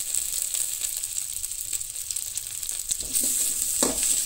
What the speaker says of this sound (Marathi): आले, लसूण आणि मिरसांगो, सो हे सगळे पयलीं भाजून घ्या बरे